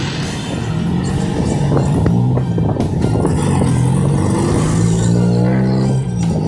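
Dense Manila street traffic heard from a bicycle, jeepney and car engines rumbling and droning close by in a continuous loud wash, with no one talking.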